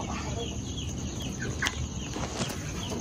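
Mixed flock of Black Australorp, Rhode Island Red, Hubbard cross and Brahma chickens clucking steadily in a farm poultry house, a continuous hen chatter with a few sharper calls rising above it.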